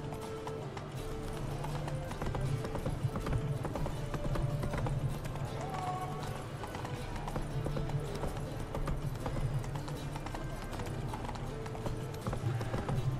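Horse hooves clip-clop steadily in The Witcher 3 game as the horse is ridden along, a continuous rhythmic trot under game music with occasional speech and a faint whinny.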